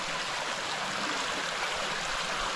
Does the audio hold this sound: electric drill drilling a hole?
no